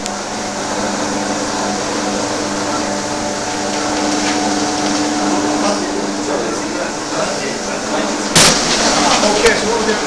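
A 60 kilogram floor machine grinding marble, with a steady loud mechanical whine and hum running throughout, close up, and a sharp knock near the end.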